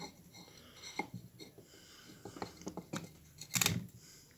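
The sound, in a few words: cutting a geranium stem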